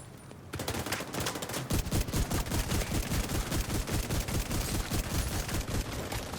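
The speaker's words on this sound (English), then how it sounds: "The other one's shooting me in the back the whole time, bro." An enemy player in The Division 2 fires sustained rapid automatic bursts, loud and close, as a dense stream of cracking shots runs for several seconds without pause.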